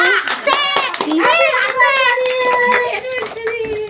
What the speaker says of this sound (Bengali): হাততালি দাও সবাই মিলে।